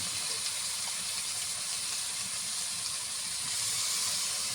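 Green chili paste and ripe tomato sizzle steadily in a pan of hot goat fat, a continuous close hiss of frying.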